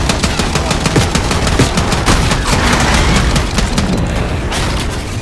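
Rapid automatic gunfire in the Call of Duty Black Ops 6 campaign, a loud, dense stream of close shots with booming impacts that continues almost without pause for several seconds.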